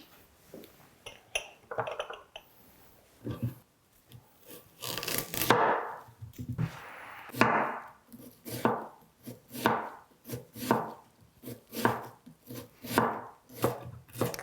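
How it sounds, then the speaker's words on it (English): An onion is chopped on a cutting board with a knife, a series of close, rhythmic thuds that grow steadier after the first few seconds, with no voices over them. "while we're waiting for the oil to be heated, I will chop some onions."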